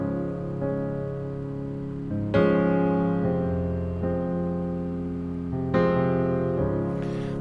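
Sustained piano or keyboard chords move back and forth between the 1 chord and the 3 chord in a songwriting session, each change struck softly and left to ring, fairly quiet and unaccompanied.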